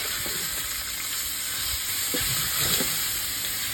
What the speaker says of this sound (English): Cook until the pork is half cooked